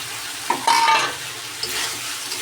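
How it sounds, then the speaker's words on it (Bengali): Meat and potatoes being stir-fried in a pan, a continuous close sizzle with a couple of scraping stirs of a spatula against the pan, no talk. "আলু দিয়ে এখন কষাবো।"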